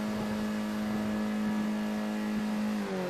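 Sim racing cars in a Skip Barber series race at New Hampshire road course rev their engines together on the grid before the start, a loud steady droning whine that holds throughout, no talk.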